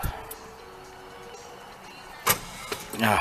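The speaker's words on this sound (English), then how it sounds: "See what I mean about that starter motor?" A Rover P6 starter motor whines faintly as it cranks the engine with the choke pulled out, a thin steady hum followed by a few sharp mechanical clunks and knocks near the end.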